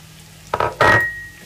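Spring onions tipped into a pan of dry cooked tongkol tuna off the heat, giving two soft rustling, crackling bursts with a faint lingering hiss, close by and alone.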